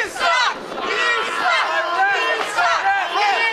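A wrestling crowd at Tickers roars and shouts in rising and falling bursts, loud and close, with voices cheering and jeering and a commentator talking.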